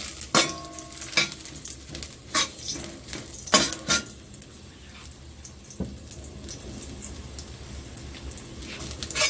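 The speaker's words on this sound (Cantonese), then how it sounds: "熱鑊咧就落咗啲油先，" Ginger slices dropped into hot oil in a wok give a steady soft sizzle, broken by sharp clanks and scrapes of a spatula stirring against the metal pan, with no voices.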